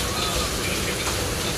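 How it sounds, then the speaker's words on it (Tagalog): Steady rain falls outdoors beside a rising river, a dense continuous hiss of drops close by with no voices during this short moment. "Ayun, umuulan."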